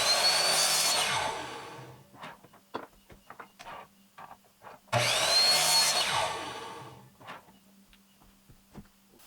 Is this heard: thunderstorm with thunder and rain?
no